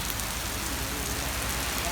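Steady rain pours down without a break at an evening stop on a bus journey, an even hiss that fills the whole stretch.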